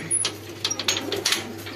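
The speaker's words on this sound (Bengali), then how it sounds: "এখানে জাহিদ ভাইয়ের সব কবুতর আছে।" Pigeons in a loft give soft, repeated coos and a few bird calls, close by over a steady low hum.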